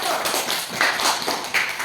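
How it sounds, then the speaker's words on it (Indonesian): A classroom group of students claps for a team that has just finished presenting, a quick, dense burst of many hands with a few faint voices mixed in. "tepuk tangan untuk kelompok 1"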